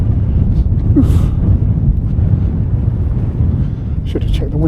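Strong wind buffets a microphone outdoors on Holt Heath in November, a heavy low rumble and roar that swells and fades continuously, with a few faint other sounds poking through.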